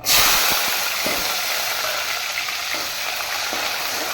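Mustard seeds and onions frying in hot oil for a fish curry, a loud close continuous sizzle and hiss with faint pops and stirring, no talking.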